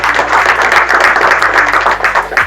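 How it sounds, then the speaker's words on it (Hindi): Loud, dense clapping from a church congregation applauding God during worship, a continuous close roar of many hands with no break for its short length. "एक बार ताली तो बजा दो प्रभु को।"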